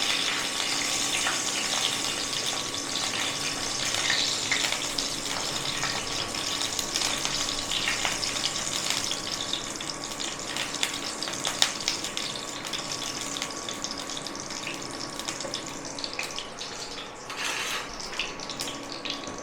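Cumin seeds, bay leaves and dried red chillies frying in hot oil for a raw jackfruit curry, a steady broadband sizzle with faint crackles running continuously and close, no voices.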